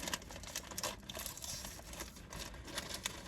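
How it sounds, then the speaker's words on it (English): Steady rain patters outside, a dense broadband hiss with scattered small taps and drips, constant and fairly soft throughout with no voices. "It's currently raining."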